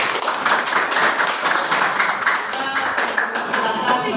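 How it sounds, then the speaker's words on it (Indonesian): Classroom audience claps for a student group after its presentation in a teacher-training lesson on Islamic funeral preparation: a few seconds of brisk, fairly close clapping from a modest group, with voices underneath. "Kita kasih tepuk tangan dulu"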